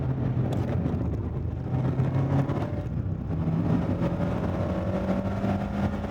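A Mazda ND3 Miata engine drones steadily at moderate volume on the Laguna Seca track, its pitch climbing slowly as the car gently accelerates, with tire and wind rush mixed in and no talk.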